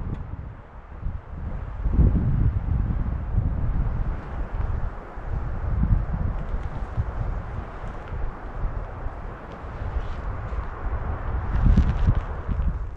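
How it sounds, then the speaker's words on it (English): Wind blowing through pine trees near a mountain top: a steady, loud, broad rushing that swells and eases, with low buffeting and no voices. "you can hear the wind going through all these pines"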